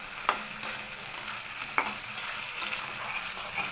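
Ground ginger and cumin paste goes into a hot frying pan for a thin rohu fish curry with papaya and potato, giving a steady close sizzle with a few sharp clinks of a utensil against the pan.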